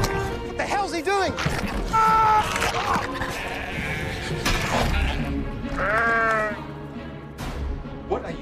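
Sheep bleat repeatedly in a rural setting from a horror-comedy film trailer, with wavering cries overlapping tense dialogue and background music throughout.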